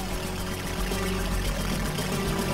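A steady, loud gurgling rush of water as the player drinks in Duke Nukem 3D, continuous and close for a couple of seconds with no talk over it.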